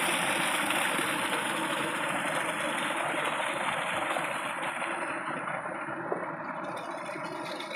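A tubewell pump engine runs in a village field with ripe wheat, giving a steady, loud mechanical drone with a rattling idle that holds unbroken throughout, with no voices.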